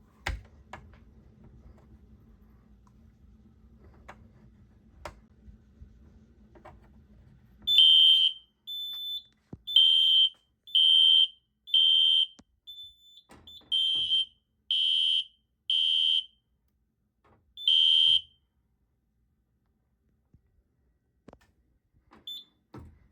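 After quiet rustling, a System Sensor SpectrAlert fire alarm horn, triggered with a magnet, blasts in loud piercing short repeated bursts with brief gaps, then stops, leaving near silence.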